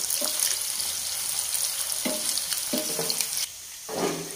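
Small chicken pieces fry for black pepper chicken in a pan, a steady close sizzle broken by a few scraping stirs before the hiss eases briefly and swells again.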